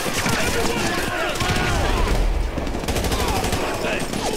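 Gunfire in the video game GTA 5 during a marine war battle, dense and continuous across the whole stretch, with rapid shots layered over a busy game soundscape and a voice partly mixed in.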